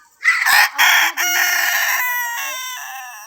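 A rooster crows loudly and close by, one long strained call that starts abruptly and trails off over a few seconds.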